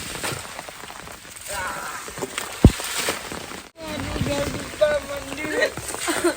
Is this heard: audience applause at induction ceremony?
no